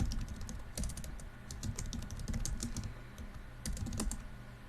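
Rapid mouse and keyboard clicks at a computer, irregular bursts of sharp taps close by and fairly quiet over a low room hum.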